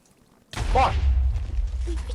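A TNT cannon in Minecraft explodes with a sudden, loud blast that rumbles and fades over a second or so, set against a near-silent background.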